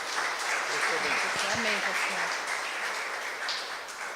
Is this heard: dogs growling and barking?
no